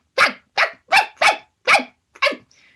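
A voice imitating a tiny dog, giving six sharp yipping and yapping barks in an uneven rhythm, close and loud, followed by a faint trailing whine.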